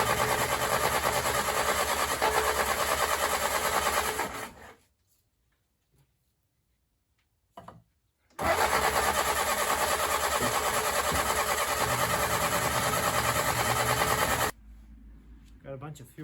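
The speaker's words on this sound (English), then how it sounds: "let's see if we can get it running off of the actual carburetor and the fuel in" A Willys CJ3A Navy jeep engine cranks loudly for several seconds, falls silent, then cranks again in a long steady run before stopping, with faint sounds afterward.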